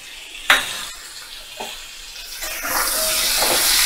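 Ginger garlic paste stirred and fried in a pan for a potato, pumpkin and prawn dish: two sharp clinks of a utensil, then a rising, steady hiss of sizzling that grows louder and fills the back half.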